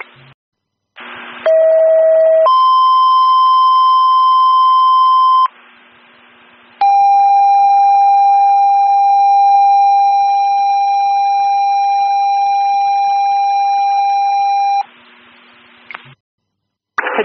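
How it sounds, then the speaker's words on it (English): A malfunctioning building alarm system that cannot be reset, loud electronic tones holding for several seconds at a time at changing pitches, broken by short gaps and harsher bursts. "There's a malfunction of the alarm system. We're unable to reset or stop it."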